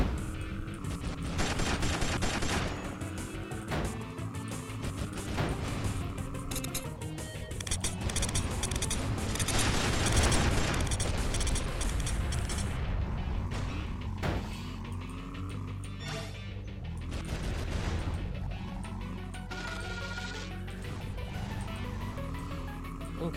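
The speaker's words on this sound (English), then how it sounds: "I need to catch up so that I can use this machine gun better" Machine gun fire in the car combat game Burnin' Rubber 5, with rapid bursts of gunfire and booms over a constant engine drone, loud and dense across the stretch with some gaps.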